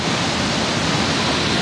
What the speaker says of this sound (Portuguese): A maior cheia do Rio da Arajara.